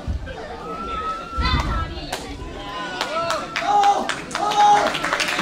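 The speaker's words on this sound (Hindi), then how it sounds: "एक बार जोरदार तालियां बजा दो" Crowd clapping and cheering at a taekwondo martial arts demonstration, a rising burst of applause mixed with children's voices and chatter, louder toward the end.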